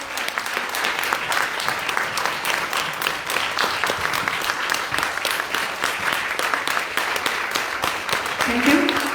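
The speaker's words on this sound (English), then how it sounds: "Can we hear another round of applause?" Audience giving a sustained round of applause at a stage event, loud continuous clapping from a large crowd with a few voices faintly mixed in near the end.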